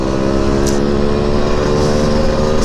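A Yamaha RX King motorcycle rides along a street in Banda Aceh, its engine a loud, close, steady buzzing drone that holds an even pitch throughout.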